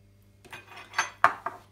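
A utensil clinks against a bowl while salt, pepper, shallots and olive oil are stirred into a mixture, giving four or five sharp metallic taps spaced unevenly over a faint steady hum.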